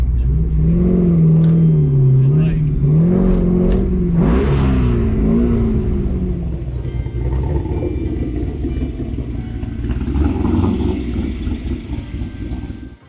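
An old car engine rumbles loudly from inside as the car is driven, rising and falling through revs with a deep throaty drone before settling into a quieter cruise.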